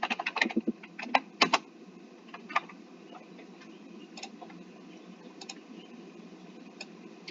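Typing on a computer keyboard, close clicks in quick uneven bursts at first, then lighter scattered keystrokes over a soft background hum.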